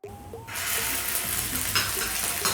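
Meatballs sear in oil in a frying pan with a loud, steady, close sizzle that swells after a short start and crackles throughout, with no talk.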